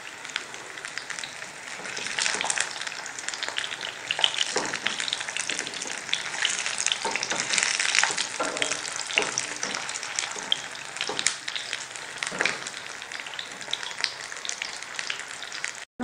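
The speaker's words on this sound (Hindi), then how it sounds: "मीडियम फ्लेम पर आपने फ्राई करना है" Leftover curry patties fry in a pan over a medium flame, making a steady, close, dense sizzle with crackling pops that runs unbroken for the whole stretch, with no voices.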